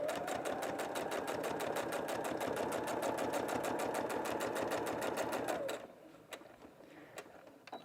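Sewing machine running steadily as it stitches along a fabric edge for a French seam, a fast even needle rhythm close and loud for several seconds, then stopping, leaving a few faint clicks and handling noises.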